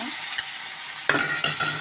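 Taro leaves stirred into fried garlic in a hot pan: a steady soft sizzle with several close scraping stirs of a utensil against the pan.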